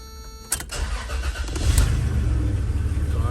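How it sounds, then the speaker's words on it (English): A Toyota 4Runner engine fitted with a new ignition cylinder cranks briefly and fires, then settles into a steady, close running rumble that keeps going to the end, with no talk. "car starts and runs."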